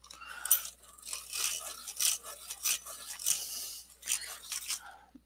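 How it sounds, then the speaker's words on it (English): A colored pencil is sharpened by hand, giving a soft, close, uneven scraping and grinding in short strokes, fairly quiet, with no voices. "So let's sharpen this one, just because it's not sharpened"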